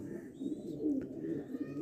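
A red Chinese-type pigeon coos softly nearby, a brief low murmuring call repeated a couple of times at low volume.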